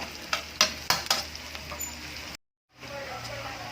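Garlic and onion for sautéed chayote are being stirred in a pan, with a soft sizzle under sharp scraping and clattering strokes, a short silent gap, then the low sizzle again.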